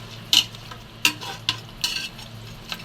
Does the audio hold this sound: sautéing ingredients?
yes